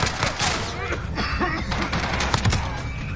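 Striker 45 gunfire in the video game Modern Warfare, a continuous burst of rapid, loud shots crackling close up with no pauses, mixed with in-game noise.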